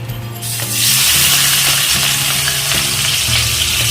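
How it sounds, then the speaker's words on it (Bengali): Sliced onions hit hot oil with a loud burst of sizzling, settling into a steady, dense crackle of frying onions being browned for pulao, with occasional stirring scrapes and no voices. "এখানে পেঁয়াজগুলো দিয়ে দিলাম সমস্ত, দিয়ে আমি এটাকে ভেজে নেব।"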